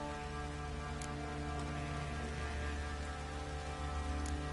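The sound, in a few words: light rain drizzling in video game The Witcher 3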